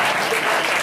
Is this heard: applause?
yes